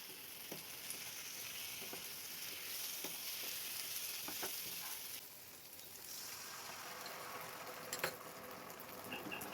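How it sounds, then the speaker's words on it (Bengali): Egg and potato curry sizzling in a pan as it is stirred, a steady hissing fry with soft scraping touches, faint and close, with no talk. "ভালো করে নেড়েচেড়ে নিচ্ছি।"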